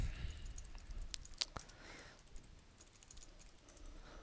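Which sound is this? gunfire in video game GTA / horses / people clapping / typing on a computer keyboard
typing on a computer keyboard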